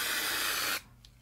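An aerosol spray paint can sprays in a steady loud hiss for under a second, then cuts off abruptly to near silence, heard up close.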